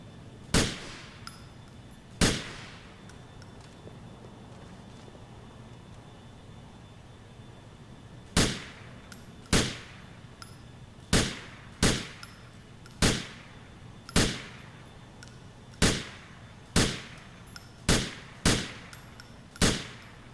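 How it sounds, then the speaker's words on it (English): Pistol shots at a police training shooting range in the video game GTA IV: about fifteen sharp, loud single reports with ringing tails, two early shots, then a pause, then a steady series of evenly spaced shots, with no talking. "Alright, you may fire when you're ready."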